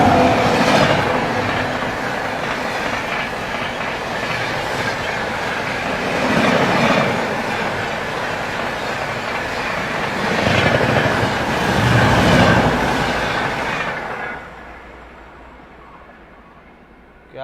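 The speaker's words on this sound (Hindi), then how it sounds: "उसके बगल से भी कोई ट्रेन आ रही है बहुत बढ़िया रफ्तार में" A train rushes past alongside at high speed, a loud sustained roar with surging wheel clatter and rail rumble that swells several times before fading quickly near the end.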